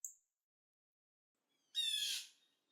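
A jay calls once with a loud, harsh squawk lasting about half a second, close by, after a faint short chirp at the start, with quiet in between and no talking.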